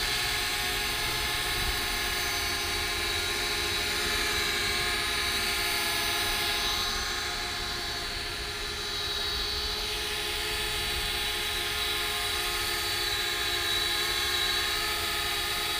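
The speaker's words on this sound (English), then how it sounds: "let's take a look at the drone, the way it's flying" A FLITT wifi FPV selfie drone hovers and flies with a steady, continuous whining buzz of its motors. The sound holds nearly constant with one brief dip, and no voices are heard.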